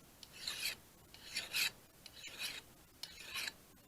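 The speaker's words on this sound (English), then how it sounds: "I'm going to push the file" A hand file is pushed along a bill hook blade in the woods, giving four rasping strokes in a steady rhythm, close and fairly quiet with short pauses between, no voices.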